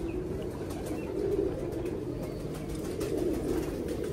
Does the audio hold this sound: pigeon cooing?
yes